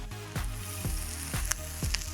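Napa cabbage and green onion sauté in a pan with mushrooms and garlic for lo mein, a steady close sizzle with periodic whooshing stirs or tosses and a few light clinks.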